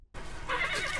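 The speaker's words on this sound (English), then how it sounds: "Why are the horses acting weird? The horses seem a little spooked to you." Spooked horses in a Game of Thrones episode, Garden of Bones, give a loud, close neigh that rises after a brief silence and is followed by restless snorting whinnies, with faint hoof sounds.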